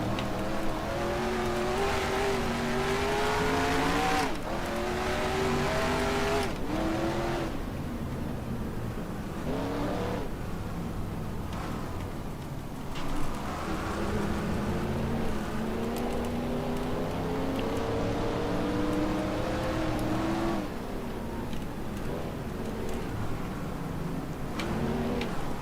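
Race car engines in NASCAR Racing 2003, a 1968-season short-track race at Greenville or Columbia, drone steadily and loudly throughout, pitch rising and falling with each shift and throttle change as several cars run close together.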